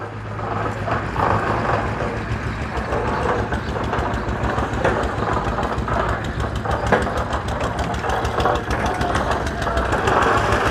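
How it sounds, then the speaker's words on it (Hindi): A diesel dumper truck idles and rumbles at a construction site where a wall is being built, with a steady low throbbing engine and a constant hum close by throughout. "ये गया जी डैम्पर।"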